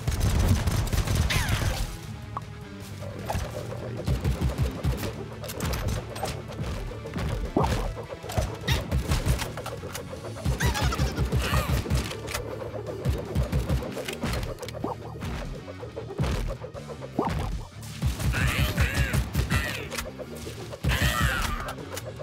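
Scattered pistol shots and sharp impacts in the AK-Xolotl action game ring out amid busy game noise over about twenty seconds, irregular and fairly loud.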